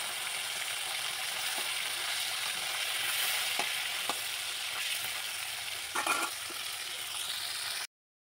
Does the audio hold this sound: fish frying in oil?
yes